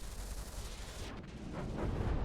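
Anti-aircraft turrets in Front Mission 5 pound out continuous booming fire, a dense rumbling barrage that grows slightly louder toward the end.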